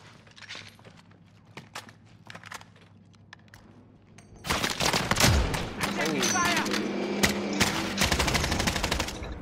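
Bursts of automatic and single gunfire in the Call of Duty Warzone video game, sparse and quieter at first, then a dense, loud barrage of shots from about four seconds on, with players talking over it.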